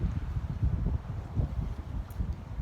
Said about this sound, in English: That wind is so strong. I thought I was going to get blown over.